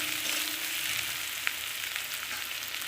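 Chopped onion sizzling in mustard oil with salt in a pan, a steady close hiss of frying with a faint stirring tick, no talking.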